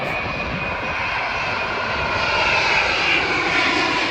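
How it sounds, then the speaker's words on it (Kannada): Airplane coming in to land near Bahrain airport, flying past a beach park: a loud, steady engine roar that holds for several seconds and swells slightly toward the end, with no voices over it. "ಪಾರ್ಕಿಂದ ಹೊರಡುವಾಗ ಕೂಡ ನೋಡಿ ಒಂದು ಫ್ಲೈಟ್ ಬರ್ತಾ ಉಂಟು"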